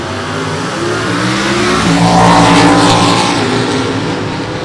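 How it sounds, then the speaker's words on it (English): Drag race launch of an electronic fuel-injected 350 cubic inch small-block Camaro with automatic transmission alongside a 2005 Chevrolet Cavalier race car, engines roaring loud and close, pitch climbing as they accelerate down the strip. "the electronic fuel injected GTF automatic 350 cubic inch small block Camaro on the left-hand side"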